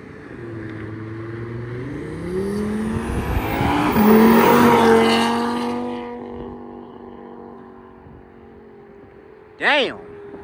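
A car engine, running on E85 fuel, revs hard and climbs through the gears as it drives off, loud and close at first, then fading, followed by a short high whine.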